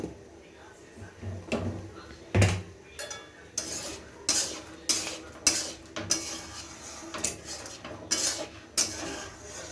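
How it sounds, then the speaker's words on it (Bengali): Jujube pickle with fennel and coriander spice is stirred and mashed in a pot, with a steady run of metallic clanks and scrapes from a utensil against the pot and some talk alongside. "এখন এইটাকে নাইরা চাইরা গুতায়া ল্যাটপাটা করব"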